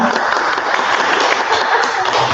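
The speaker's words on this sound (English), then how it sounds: "applaud your family members right now" Audience applause fills a school ceremony hall during an honor society induction: a dense, steady wash of clapping that holds at an even level with no break, and a faint voice may sit beneath it.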